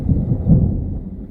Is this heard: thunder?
yes